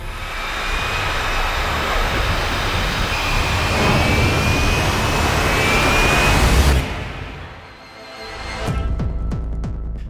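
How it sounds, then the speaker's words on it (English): A jet aircraft on a Royal Navy carrier goes to full throttle and launches up the ski ramp, a loud sustained roar with a rising whine that cuts off sharply near the end, followed by scattered clatter. "slam into a full throttle, quickly release the brakes, and then we just keep the jet straight as we launch up the ramp"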